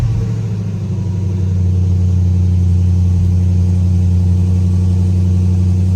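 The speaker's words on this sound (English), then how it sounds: "I think I have to actually turn the vehicle on" Jeep Grand Cherokee SRT engine running right after starting, a loud, steady deep rumble with a low idle drone held throughout.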